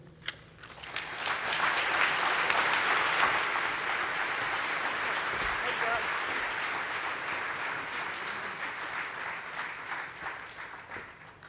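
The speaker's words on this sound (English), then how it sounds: "we give them a warm applause" A conference audience at the ISMRM 2019 plenary awards session applauds gold medal recipients: dense, sustained clapping from a large hall that swells quickly, holds for about ten seconds and slowly thins out.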